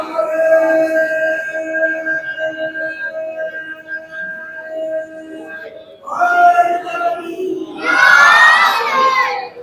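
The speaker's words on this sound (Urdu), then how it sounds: "ایک واضح بلند نعرہ صلوات پڑھنا" A large crowd at a Jashne Wilayat religious gathering at a shrine in Silvassa, Gujarat, loudly chanting salawat in unison, with bursts of massed shouting rising in two waves after a sustained tonal chant.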